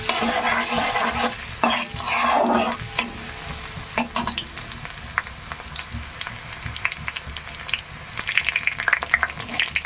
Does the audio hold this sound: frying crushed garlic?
yes